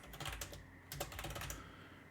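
A file name being typed on a computer keyboard: two quick runs of close, clicking keystrokes separated by a short pause, with no talking.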